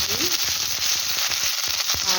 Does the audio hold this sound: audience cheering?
no